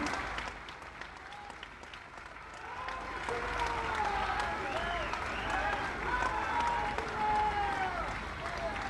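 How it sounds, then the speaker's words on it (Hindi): A large gathering at a ghat inauguration in Gorakhpur claps to welcome a revered Maharaj. The continuous applause starts faint and swells, and thin whistling tones drift over the crowd. "सब लोग लगातार 1 मिनट तक ताली बजा करके पूज्य महाराज जी का गोरखपुर में स्वागत करिए"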